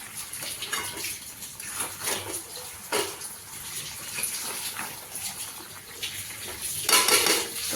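Chicken stirred and fried in a pan for a home dinner, with clinking spoon and metal scraping against the pan over steady sizzling, a close and busy kitchen sound with no talk.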